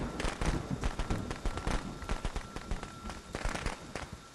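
Fireworks bursting in the Friday the 13th video game, a dense run of sharp crackling pops and bangs repeating rapidly for several seconds at steady loudness, with no talk over them.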